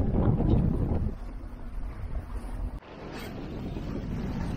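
A sailboat beating into large waves around two metres high in strong wind near Knidos in the Gulf of Gökova, with heavy low wind buffeting on the microphone and sloshing water, loud at first and easing briefly midway.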